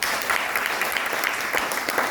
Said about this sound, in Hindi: एक बार जोरदार तालियां आप सभी के